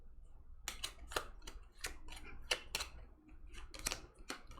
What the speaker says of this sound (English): I have to shuffle my 2 cards